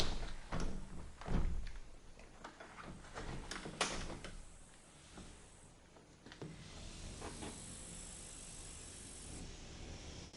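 A sliding patio door onto a terrace is pushed open and closed, giving rough rumbling and scraping slides with a few bumps and knocks, then a steadier hiss, all close and alone.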